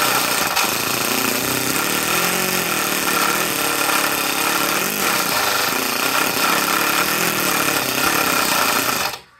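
A 5.1-liter engine churns loudly and steadily for about nine seconds, cranking and catching without firing cleanly, a dense mechanical roar that cuts off abruptly at the end.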